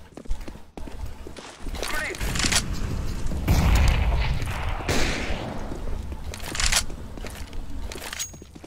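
A grenade explosion in Counter-Strike: Global Offensive gives a loud broad boom in the middle, set among game clatter and gunfire, with a player talking over the action.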